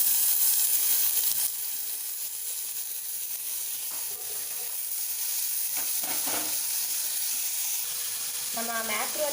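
Onion and tomato frying in a pan after a garlic-ginger paste goes in, a continuous hissing sizzle close by with occasional stirring scrapes and faint background voices.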